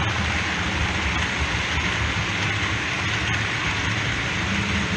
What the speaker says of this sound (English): Right, here's the container train.